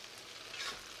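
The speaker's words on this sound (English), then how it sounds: "while these guys fry and fry, I'll just keep stirring" Tofu frying in oil in a cast iron pan gives a soft, steady sizzle with a faint swell midway, close and alone.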